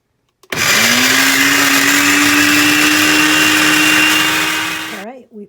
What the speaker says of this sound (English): All right, we put it through the blender